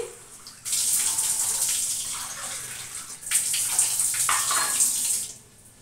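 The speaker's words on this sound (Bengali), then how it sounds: "বন্ধুরা, চায়ের জলটা মেপে নিচ্ছি।" Water for tea pours steadily into a measuring vessel in a home kitchen, a continuous near splash that runs about four seconds with a short break midway, then fades out. No one speaks.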